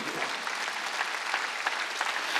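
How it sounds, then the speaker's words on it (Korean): Steady applause from a church congregation at a Sunday worship service, dense and even clapping filling the room throughout with no voices over it. "십자가를 다 박수 치라고"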